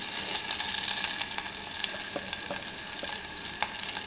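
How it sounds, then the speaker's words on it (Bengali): Whole cumin seeds tempering in hot oil, crackling and sizzling steadily, with small pops and scattered stirring clicks throughout, fairly close, no voices. "গোটা জিরে ফোড়ন দিয়ে দেবো"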